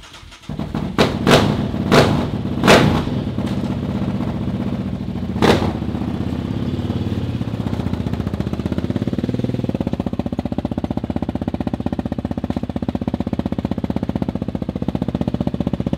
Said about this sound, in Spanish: Vamos a probar el motor antes de irnos para la boda.